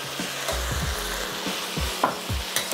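Potatoes fry in a hot wok with a steady, close sizzle. A spatula stirs them with frequent low scraping clunks, and no one speaks.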